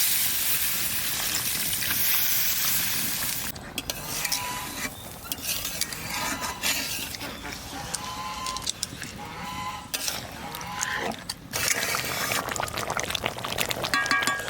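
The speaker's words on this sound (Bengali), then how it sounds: "এবার জল দিয়ে দেবো।" Water is poured into chicken curry cooking with raw mango and kasundi. It hits the hot pan with a loud, continuous hissing sizzle and gurgling pour that keeps rising and falling throughout.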